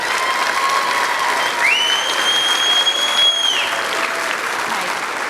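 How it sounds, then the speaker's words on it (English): Continuous audience applause fills an elementary school fifth-grade graduation ceremony, a broad steady wash of clapping, while a faint high whistle or feedback tone rises and falls in the middle. "Let's just give all of them a big round of applause."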